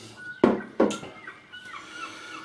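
Morning birds heard through an open window on a Sunday: two loud clucking, fowl-like calls close together, then fainter chirps and calls trailing off in a quiet room.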